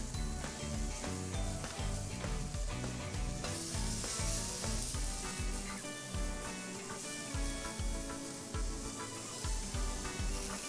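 Peach slices frying in olive oil in a pan for bruschetta, a steady, loud, close sizzle with crackling that continues unbroken throughout, with no voices.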